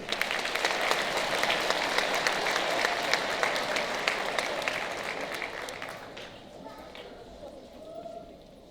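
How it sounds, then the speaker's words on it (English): A room full of people at a middle school eighth grade moving-up ceremony breaks into sustained applause, dense and steady for several seconds before thinning out and fading near the end. "So please, a round of applause for Cheryl Baker."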